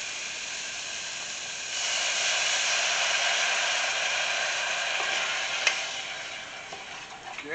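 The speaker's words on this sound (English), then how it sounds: "I'm going to deglaze this with, I don't know, probably close to half a cup of white wine" Half a cup of white wine hits a hot pan and sizzles loudly, a steady hiss that swells after a couple of seconds, with a faint clink partway through. No voices are heard.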